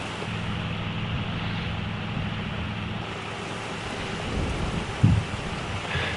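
Rain and thunder in Farming Simulator 25, a steady dense hiss of rainfall with low rumbling thunder rolling beneath it and a sharper thump near the end.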